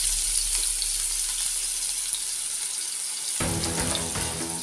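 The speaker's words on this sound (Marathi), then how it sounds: "तेल टाकल्यानंतर त्यामध्ये आपण कांदा टाकणार आहोत." Onion frying in hot oil in a pan for a village-style chicken dish, a close, steady hiss and sizzle that rises into louder, crackling frying near the end.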